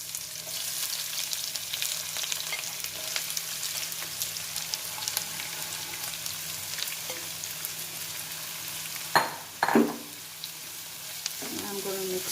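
Chopped onions sizzle steadily in hot oil with spluttering rye mustard seeds for pav bhaji, a continuous close frying crackle with a few sharper stirring clatters near the end.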